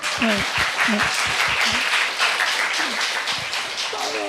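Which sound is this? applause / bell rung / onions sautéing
applause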